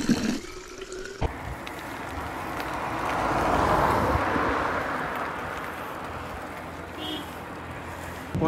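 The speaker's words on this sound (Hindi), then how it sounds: "अभी दिखाते हैं हम आपको धारे का पानी।" Mountain spring water pours steadily from a hillside spout near Kunjapuri in the hills between Dehradun and Chamba, a broad continuous rush that swells in the middle, with a brief voice faintly underneath.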